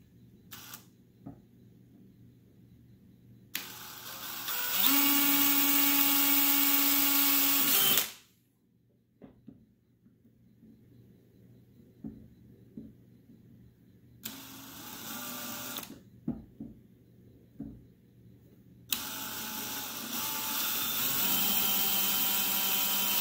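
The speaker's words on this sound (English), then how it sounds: "Just going to start a little pilot hole first." Drill boring a pilot hole while building a DIY auger-style sand anchor for a Waverunner jet ski: two sustained whining drill runs several seconds long, close and loud, separated by quieter handling clicks.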